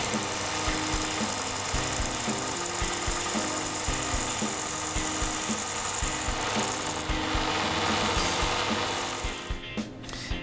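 A hand file rasps back and forth in steady rhythmic strokes across a small machined steel lathe carrier part in a home machine shop, close and continuous throughout.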